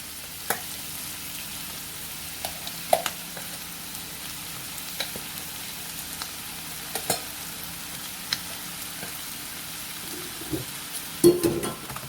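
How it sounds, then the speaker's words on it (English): Bay scallops and shrimp cut into quarters fry in a hot pan with a steady, close sizzle throughout, broken by occasional light clicks from stirring, with no talking. "And then I'm going to add the bay scallops and shrimp."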